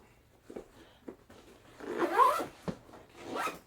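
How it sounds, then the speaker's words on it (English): A zipper being drawn shut on a pocket of a Tudequ 3-in-1 techie backpack, with a few short tugs followed by a longer rasping pull, close and fairly loud, with no talking. "And then let me zip it back up."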